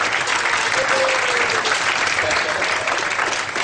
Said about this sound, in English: give a huge round of fake but joyous applause